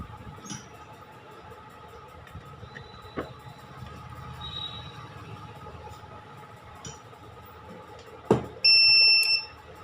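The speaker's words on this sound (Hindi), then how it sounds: "इसमें जो लगातार बीप साउंड कर रहा था" A Luminous Eco Watt 850VA home inverter sounds a short, loud electronic beep near the end, preceded by faint intermittent tones over a quiet room hum.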